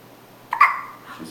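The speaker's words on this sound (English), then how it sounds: "hiccups." A three-day-old newborn baby gives a single soft, close hiccup in an otherwise quiet room.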